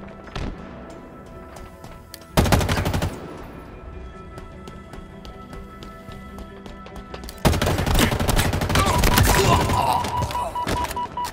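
Weapon fire in Halo Infinite comes in two loud bursts: a short volley of rapid shots, then a longer sustained stream of gunfire after a quieter pause.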